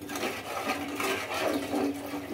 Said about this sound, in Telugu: 1-2 గ్లాసులు అయితే వేసుకుంటున్నానండి నేను ఇక్కడ వాటర్